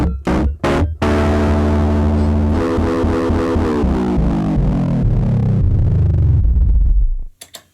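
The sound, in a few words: distorted Rhodes electric piano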